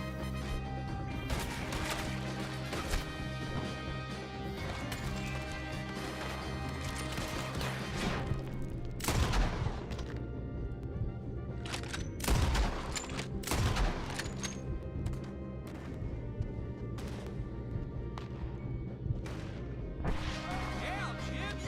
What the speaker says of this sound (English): Hell, Jim, you can shoot.